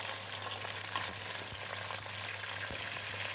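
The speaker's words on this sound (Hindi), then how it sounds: "अब हड्डियों को और गोश्त को मैं फ्राई करूँगी थोड़ा सा ऑयल और प्याज के साथ" Beef and bones fry in oil with onions in a cooking pot for nihari, giving a constant close, loud sizzle and hiss with a few faint scrapes and no talk.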